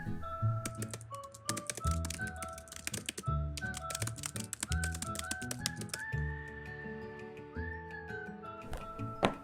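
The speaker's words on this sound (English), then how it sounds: "Typing Out The Great Gatsby" Rapid clicking keystrokes on a computer keyboard as a novel is typed out, a dense patter of taps running throughout over a melodic whistled tune in the background.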